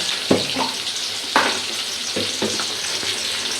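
Onions and large prawns frying in hot oil make a steady close sizzle, broken by a few louder stirring scrapes and crackles.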